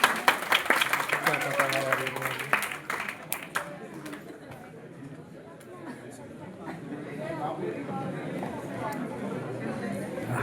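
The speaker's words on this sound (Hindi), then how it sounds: "एक बार तालियां हो जाए आप सभी के लिए" A workshop audience on sales and marketing strategies for start-ups claps in a burst of applause that fades into crowd chatter and murmuring voices, with speech audible throughout.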